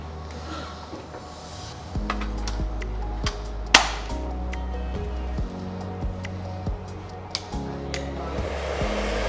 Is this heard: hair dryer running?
yes